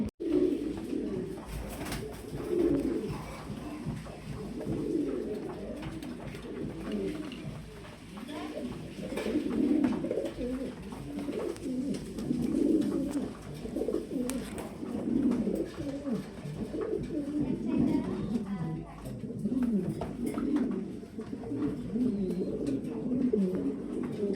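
Imported-bloodline pigeons coo steadily throughout at a pigeon farm, several birds overlapping in low, rolling calls that stay close and moderately loud, with faint voices in the background.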